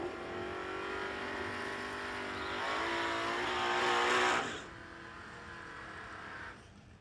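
A Camaro drag racing car at a no-delay drag race roars loudly down the strip, its engine note climbing and peaking before cutting off abruptly, leaving a lower steady drone of engines afterward.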